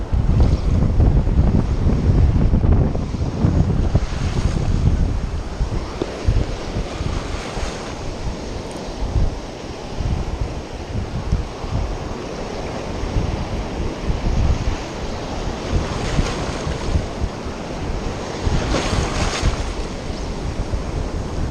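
Strong wind buffets the microphone while waves wash steadily nearby during fly casting, a loud, continuous roar with rolling surges and no voices.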